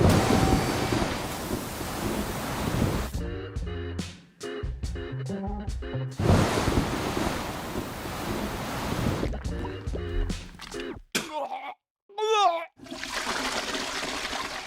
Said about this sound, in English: Looks like this storm could be with us for a few weeks.